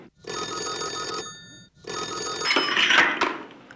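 An indoor telephone bell rings in two loud bursts separated by a short pause, with a brief rustle as the second ring fades.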